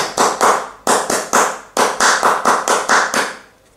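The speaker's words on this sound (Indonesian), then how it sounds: "1, 2, 3, tepuk pramuka." A group of young scouts claps a rhythmic pattern together, loud and close: sharp bursts in short groups separated by brief pauses, ending with a fading flurry.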